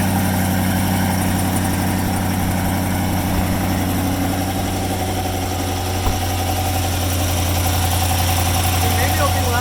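A 2020 Chevrolet C8 Corvette with aftermarket headers idles in quiet mode, a loud, steady, close-up rumble with a raspy edge and no revving, while a voice talks over it.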